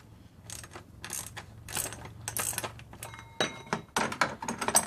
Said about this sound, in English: Then you want to undo the oil filter housing.